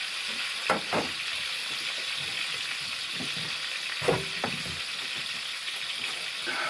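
Bacon fries in a pan at a cold outdoor camp, giving a steady, close hiss of sizzling fat punctuated by a few faint clinks and scrapes.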